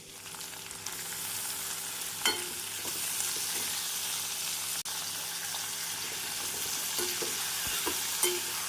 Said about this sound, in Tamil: தக்காளி வெங்காயத்தை நாம் நன்றாக வதக்கி